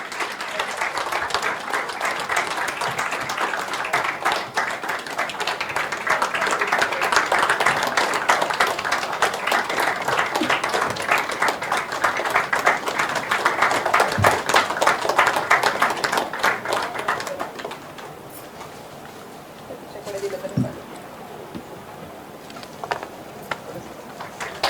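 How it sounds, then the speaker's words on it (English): Sustained audience applause at a gynaecology hysteroscopy masterclass as a chief guest is honoured: loud, dense clapping swells and holds for most of the stretch, then drops away abruptly, leaving scattered faint claps and small sounds in a quieter room. "There should be, the claps should not stop."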